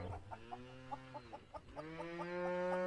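Chicken in the Farming & Supermarket Simulator video game clucking in a short run of quick rhythmic clucks, then a longer drawn-out call, clear and close with no talk.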